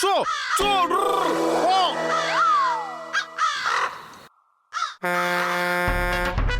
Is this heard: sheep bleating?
no